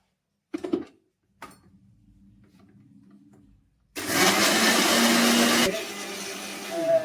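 A mixer grinder whirs through batter in a kitchen: a few short clicks and a low hum come first, then the motor roars loud and steady for about two seconds before winding down.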